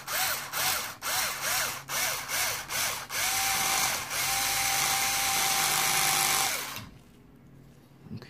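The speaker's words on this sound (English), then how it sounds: "Don't want to drill all the way through the casting." A power drill revs in short repeated bursts into a diecast metal model vehicle casting, then runs steadily with a whining pitch before stopping, fairly close and loud.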